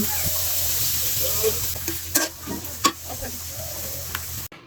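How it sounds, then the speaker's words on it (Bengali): Steady sizzling of chopped onions frying in oil in a wok, with a few sharp clinks and scrapes of stirring over the continuous crackle. "আলু ভাজা তেলটুকু কড়াইয়ে দিয়ে দিলাম এরপর কড়াইয়ে দিয়ে দিলাম কুচানো পেঁয়াজ"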